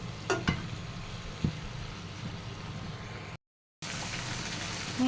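Spiced tomato masala for chicken curry sizzles and fries in a pan while being stirred, a steady close crackle with a couple of soft stirring knocks, cut briefly by a gap of silence.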